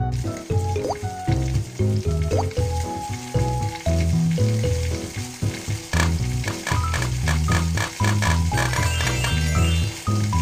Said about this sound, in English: It's time to fry the dough sticks.